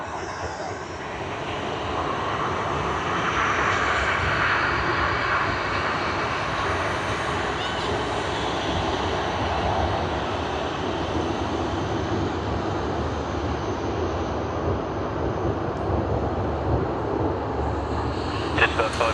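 A Virgin Australia airliner roars at Sydney Airport, a broad jet engine rumble that builds and stays loud throughout, with radio chatter faintly under it.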